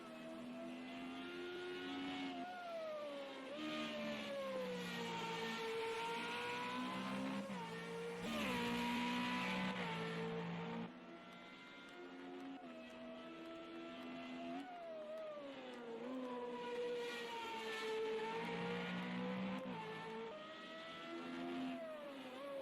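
FR35 race cars at speed on the Watkins Glen circuit, a continuous, loud, high-revving engine whine whose pitch rises and falls through gear changes as cars pass, with no talk over it.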